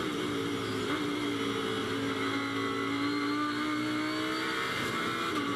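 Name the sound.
Lamborghini GT3 race car engine on board at Brands Hatch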